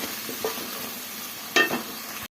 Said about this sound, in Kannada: ನಾವು ಈರುಳ್ಳಿ ಟೊಮೆಟೊ ಎಲ್ಲ ಹಸಿದು ಹಾಕಿದ್ದೀವಲ್ವಾ ಒಂದು ನಿಮಿಷ ಈ ಥರ ಫ್ರೈ ಮಾಡಿಕೊಂಡ್ರೆ ಸಾಕು